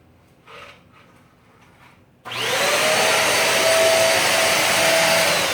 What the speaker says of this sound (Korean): 이게 시청자한테 후원받은 청소기입니다.